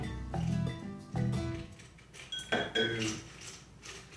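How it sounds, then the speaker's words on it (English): Ice cubes clink and knock into a glass being built into a mojito, a few clattering hits with brief ringing tones, close and moderately quiet. "And now we're going to put ice in it."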